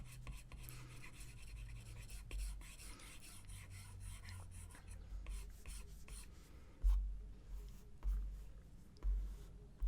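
A stylus draws quick strokes on a tablet screen for a Procreate drawing, giving soft rasping scratches with sharper taps and swipes toward the end, faint and close.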